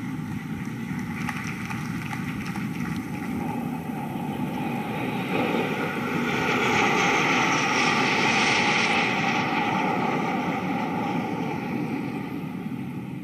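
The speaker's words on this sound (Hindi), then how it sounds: "ध्वनि की दुगनी गति से उड़ने में सक्षम, आसमान को चीरते आ रहा है MiG-29 के लड़ाकू विमानों का यह दस्ता" A formation of MiG-29 fighter jets roars past in a naval flypast. The steady engine rush swells to a loud peak midway and then eases off slightly, with no talking.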